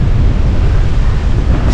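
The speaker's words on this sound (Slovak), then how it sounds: "ale dnes tu máme väčší vietor" Strong wind buffets the microphone beside a lake during a carp fishing session as a storm approaches, a loud, continuous low roar with no speech.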